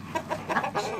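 Chicken clucking close by, a quick run of four or five short clucks in a second.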